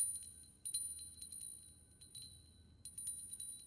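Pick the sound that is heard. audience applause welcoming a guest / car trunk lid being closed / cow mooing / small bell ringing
small bell ringing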